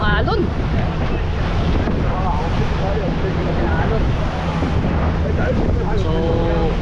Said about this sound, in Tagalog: Malaki talaga yung alon.